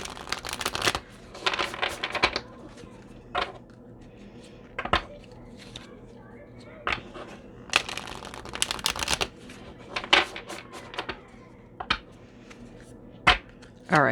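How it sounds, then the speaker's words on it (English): Akashic Tarot cards shuffled by hand in a quiet room: sharp riffles and slaps come in scattered bursts with short gaps between, close and crisp, and no talking. "I'm going to pull 3 cards from the Akashic Tarot."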